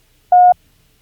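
A single Morse code tone for the letter E: one short, clean electronic beep at a steady mid pitch, loud and isolated, with silence before and after and no voices.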